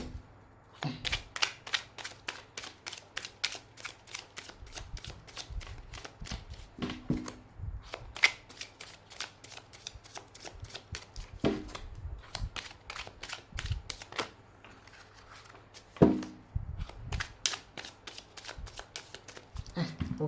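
Tarot cards shuffled by hand in a long run of rapid riffling clicks and flutters, close and fairly quiet, with brief pauses between bursts and no talking.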